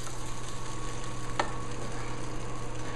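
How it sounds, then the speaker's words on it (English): A spatula mixes ingredients in a pan in a continuous soft scraping and stirring, with a sizzling, frying hiss held steadily throughout and one brief sharp scrape near the middle. "I've got a spatula that I'm going to use to get all these guys and mix all these things up"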